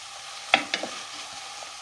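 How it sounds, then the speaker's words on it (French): Onions softening in salted butter in a pan give a quiet, low sizzle broken by a few crisp spatula clacks and scrapes, with no speech. "On fait juste une fondue d'oignon."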